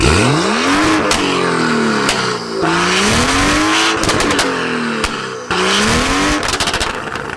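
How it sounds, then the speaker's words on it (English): A loud, tuned BMW M3 engine revs hard in repeated rising sweeps, with sharp crackles and pops from the exhaust between bursts, close up and with no talk. "What a crazy sounding car."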